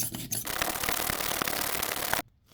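Steady broadband grinding and scraping of a hand spring drill boring into hard resin, continuous for about two seconds and then stopping abruptly.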